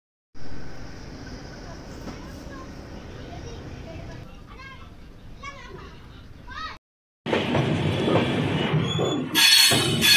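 The Amritsar Lalkuan Express pulling out of New Morinda Junction on the Ambala–Kalka line, with rumbling wagons and wheels squealing up close. Children's voices and talk sound over it, and a brief gap breaks the sound before a louder stretch.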